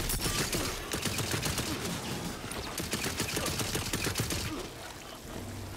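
Rapid pistol gunfire in the video game Tiny Tina's Wonderlands, a steady dense stream of shots with homing rounds, continuous and fairly loud throughout.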